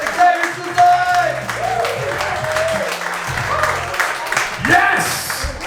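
An audience at a stand-up comedy show applauds and cheers as a comedian is welcomed to the stage, with steady clapping and crowd noise running under a host's amplified voice.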